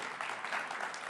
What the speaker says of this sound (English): Can we give Cobbler Shop one more round of applause?